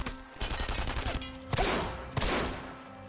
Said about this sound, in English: I'm telling you, this pistol is absurd.